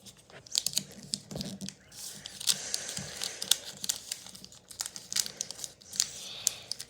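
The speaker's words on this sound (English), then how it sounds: "then you fold these flaps to the middle" Origami paper being folded, flaps creased toward the middle: soft crinkling and rustling with sharp little crackles, close and quiet, continuing throughout without talk.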